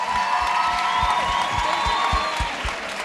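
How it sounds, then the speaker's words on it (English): A crowd at an Orange Farm youth empowerment event claps for itself before a main stage, the applause mixed with cheers and whistles, with a steady thumping beat underneath. It stays full and lively for a few seconds, then eases slightly. "Give yourself a round of applause"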